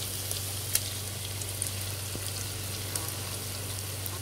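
Tomatoes sizzle in a hot pan of lamb curry, a steady close frying hiss with faint pops and a low constant hum beneath.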